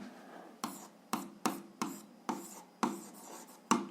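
Handwriting with a pen during an algebra lesson, heard as a series of about eight short scratchy strokes at an uneven rhythm, close and quiet, with no talking.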